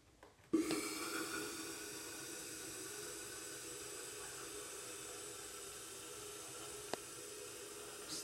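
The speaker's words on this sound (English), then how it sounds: "Steam start rising" A Monster hand held steamer hisses steam steadily after starting abruptly, a loud continuous close hiss with faint tones, cleaning a sink, with a brief click partway through.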